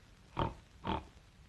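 A voice imitates a pig, giving two short, grunting oinks about half a second apart, close and fairly soft against a quiet background.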